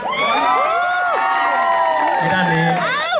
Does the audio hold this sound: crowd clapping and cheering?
yes